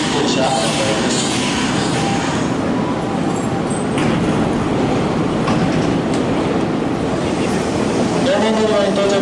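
Nankai 6200 series set 6513F local train arriving at and pulling out of a Koya Line station: a steady, loud rolling rumble of wheels and motors, with platform announcements running over it.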